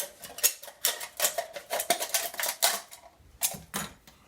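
Scissors make sharp metallic snips and crunches cutting an aluminum can, in a quick irregular series, close and crisp, with brief pauses between bursts.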